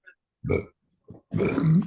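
A loud, drawn-out belch erupts from one person during an online Q&A chat, preceded by a short grunting burst and a brief low blip, heard close with no talking over it.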